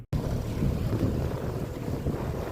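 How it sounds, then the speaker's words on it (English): Wind buffets the microphone out on a lake beside a small boat with a 10 horsepower limit, a steady low roaring rush with gusts that swell and ease, and no talking. "I get here and it just starts being windy as crap"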